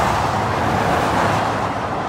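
Road traffic rushing past a cyclist riding toward Government Camp near Mount Hood, heard as a loud, steady roar of passing vehicles with wind noise and no clear gaps.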